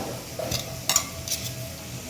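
Chole masala being stirred in a pan, a brief low sizzle with two or three quick scraping strokes of a spoon against the metal, close by.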